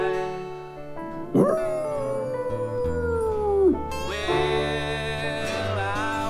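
An old hound howls outdoors, a long drawn-out wavering cry that dips at the end and then starts again, heard over a steady backing of music.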